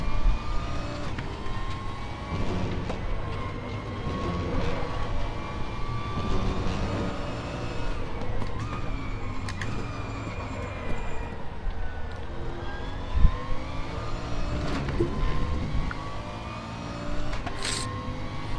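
Bentley Continental GT3 race car engine in the RaceRoom racing game at Sepang, a loud, continuous engine roar with shifting pitch as revs climb and drop through corners, steady throughout with a brief sharp spike near the end.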